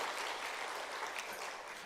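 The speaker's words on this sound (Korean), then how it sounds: "박수 한번 주세요." Church congregation at a Friday night worship service applauding, a steady, dense wash of many hands clapping at once, filling the room evenly with no talk over it.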